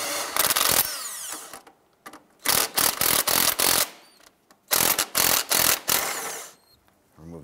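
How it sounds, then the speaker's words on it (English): An impact wrench with a 15 mm socket works a suspension bolt loose on a 1999-2004 Jeep Grand Cherokee, firing in loud, close bursts of rattling hammering separated by short pauses, no talking. "We'll just use our 15 millimeter on an impact."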